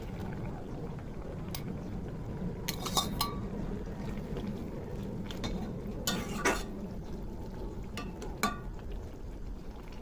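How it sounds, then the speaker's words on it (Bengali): Fried okra goes into a simmering mustard masala with a splash of water in a cooking pan, producing a low steady bubbling bed with a few sharp clinks and stirring knocks from utensils against the pan, no talk. "এখন দিয়ে দেবো ভাজা ভেন্ডিগুলো দিয়ে দেবো।"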